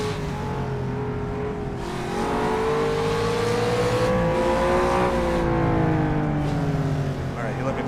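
A loud opponent race car engine in rFactor on the Targa Florio course, its rising and falling tone close and steady over the player's own engine, with speech faintly present.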